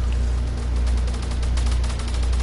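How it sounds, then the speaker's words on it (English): Video game gunfire in rapid bursts, repeated sharp cracks in quick succession over a constant low rumble, loud and close. "Well, I just heard a gunshot, but I'm pretty sure it's in here."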